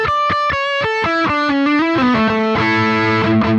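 A dry, distorted electric guitar tone through a Boss GX-100 multi-effects unit with the delay turned off: a quick run of picked single notes moving downward, then sustained ringing notes, loud and alone.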